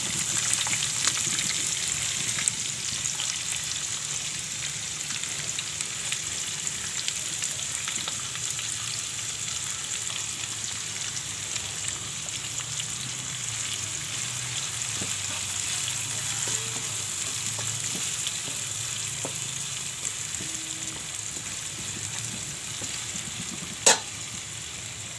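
Onion fries in oil with already-fried garlic for rava upma, a steady close sizzle with soft stirring underneath, continuous and even throughout, and a single sharp clink near the end.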